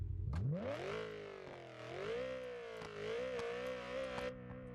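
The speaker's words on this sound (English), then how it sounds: "This car sounds so good." A car engine in the BeamNG driving game revs up sharply, then holds and swells through several rising and falling pitch sweeps, a smooth loud synthetic whine with no talking.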